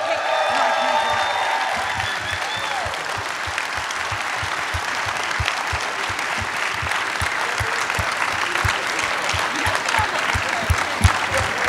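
Convention crowd greeting Walter Koenig with steady, close applause and scattered cheers. Voices rise briefly at the start, then dense clapping continues evenly for over ten seconds alongside rhythmic low thumps.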